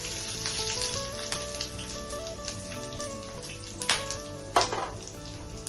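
Fenugreek, coriander and whole cumin seeds crackle and sizzle steadily in hot oil for a Bengali fish curry, a close, dense frying hiss with a couple of sharper pops near the end and no talking.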